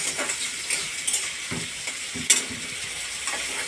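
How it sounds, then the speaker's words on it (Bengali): Meat being stir-fried kosha-style in a home kitchen, a soft continuous sizzle broken by intermittent spatula scrapes and light clinks, close and fairly quiet with no talking. "মাংস কষাই মাংস কষাই"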